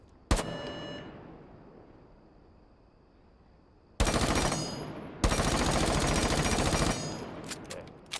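A P90 submachine gun fires in Rainbow Six Siege: a single sharp shot, a pause, then two long, loud full-auto bursts of rapid, even shots, close and unaccompanied.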